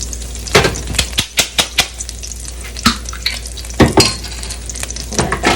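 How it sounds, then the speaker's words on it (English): Sofrito and recaito hit a very hot pot and crackle steadily, with repeated sharp clacks of a spoon against the pot as they are stirred, loud and close, alone. "Next, we're going to put in our sofrito and recaito."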